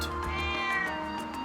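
A cat in the video game Trails of Cold Steel gives a short, bright meow that rises and falls, sounding clearly over a busy background of game music.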